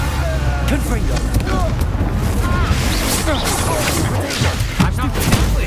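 Confringo blasting curse explosions in the video game Hogwarts Legacy, loud booms and thumps amid dense combat noise, with voices shouting over the top.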